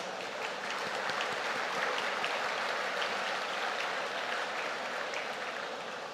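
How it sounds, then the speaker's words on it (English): A graduation convocation audience applauds in a dense, steady wash of clapping that holds at an even, loud level throughout. "please give yourselves a big round of applause"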